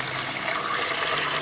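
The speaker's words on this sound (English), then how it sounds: "Then just pour in enough wine to come halfway up the pork." Wine poured into a roasting pan holding pork set on a rack over vegetables, a steady close liquid splash and trickle running continuously without pause.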